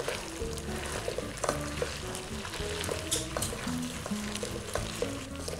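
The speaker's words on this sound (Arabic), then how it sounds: "رح نقلب البطاطا لحتى نعطيها تحميرة تقريبا من كل الجهات" Potatoes frying in a pan and being turned, with a steady sizzle and scraping stirring clatter that recurs close and clear throughout.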